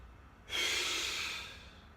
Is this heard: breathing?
yes